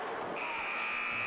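A buzzer sounds at an ice hockey game, a sustained electronic tone that starts partway in and holds steadily over the background arena noise.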